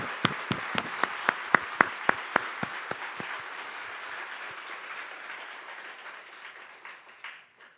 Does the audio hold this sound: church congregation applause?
yes